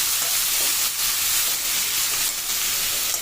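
Ground snake gourd paste with salt frying in hot oil for a Nellore-style curry: a loud, steady, close hiss of sizzling that goes on without a break, with no voices.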